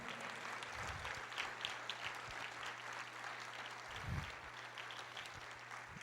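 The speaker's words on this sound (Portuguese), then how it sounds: "Aplauda o Senhor." Church congregation applauding during a worship service, a steady broadband clapping wash sustained throughout at moderate distance, with no one speaking over it.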